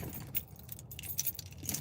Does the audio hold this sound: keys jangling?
yes